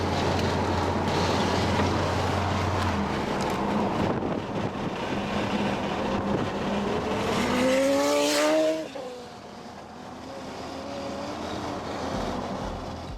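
A supercharged Mercedes SLS AMG races a BMW M3, with a loud sustained engine roar that climbs through rising revs, then drops off sharply and settles to a quieter, steady rumble.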